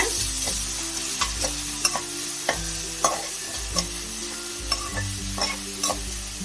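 Ground masala stirred into a pan of sautéed onion and tomato for an egg curry, frying with a steady sizzle while a spoon scrapes in regular strokes, close and clear with no talking.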